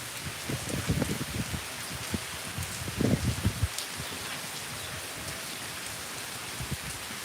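Steady rain hisses across the whole stretch, with louder low rumbling gusts and spatters near the start and around the middle, no voices.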